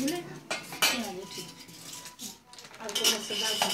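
Rice is eaten from a bronze plate, with close metallic clinks and scrapes of the plate and utensils among people talking.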